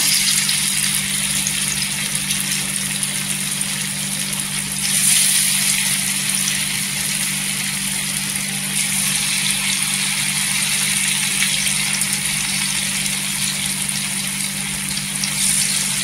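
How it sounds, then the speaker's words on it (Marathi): Fasting-style bhaji fritters deep-frying in oil in a kadhai over low gas: a steady, dense sizzling hiss that continues evenly throughout with no talk. "इथे भजी टाकायची, गॅस स्लो ठेवायचा।"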